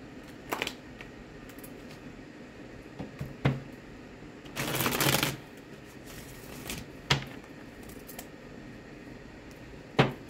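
A deck of tarot cards being shuffled gives several short riffling bursts, one longer flurry near the middle, then a few quick taps, close and fairly quiet with no talking.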